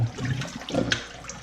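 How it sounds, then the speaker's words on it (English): Water splashes and drains out of a bird carcass being prepared for taxidermy in gurgling spurts, close by and fairly loud for a moment. "I'll let most of the water drain out of it."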